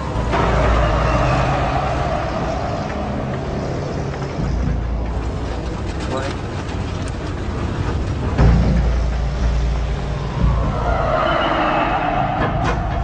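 A truck driving along, a loud, close engine rumble with rattles and shifting mechanical noise throughout and no voices.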